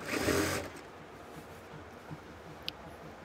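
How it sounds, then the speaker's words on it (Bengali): A sewing machine stitches a seam on palazzo pants in a short, loud half-second burst, then the room goes quiet apart from faint handling clicks. "এখানে মিল করে আমরা সেলাই করব।"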